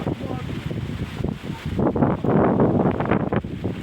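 Strong wind in the aftermath of Typhoon Opong gusts and buffets against the microphone, swelling louder partway through, while people talk over it.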